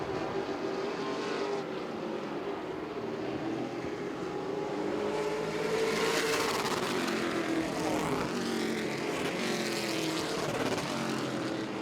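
Pro Late Model stock cars racing in the Sweet Potato 7 Series Scott Farms Pro Late Model Division at Southern National, a steady loud engine roar that swells and shifts in pitch as cars pass, continuous throughout.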